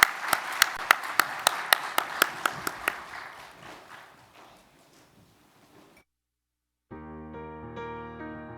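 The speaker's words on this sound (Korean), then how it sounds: "다시 한번 격려와 감사와 축복의 박수를 보내겠습니다." Church congregation at a Sunday service applauding: a few sharp rhythmic claps up front over a wash of applause that fades out, followed by silence and then organ-like sustained music.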